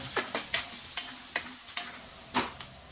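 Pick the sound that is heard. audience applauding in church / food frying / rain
food frying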